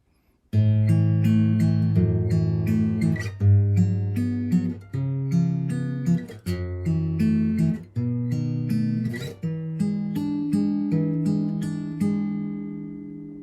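A single guitar plays the first part of a song alone, with plucked notes and chords ringing in a steady, moderate rhythm, clear and close.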